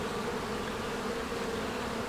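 Honeybees buzz around small hive colonies in a beekeeping yard, a dense, continuous droning hum at moderate volume with no talking.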